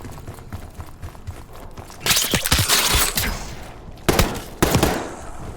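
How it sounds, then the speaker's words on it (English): Bursts of gunfire inside a building in the video game Call of Duty: Black Ops 6, heard as loud rapid volleys from about two seconds in, with sharper bursts near the end. "You hearing gunfire? Yes. Sounds like it's coming from one of the lower floors."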